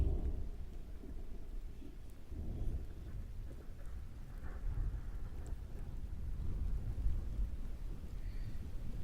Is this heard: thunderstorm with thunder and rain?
yes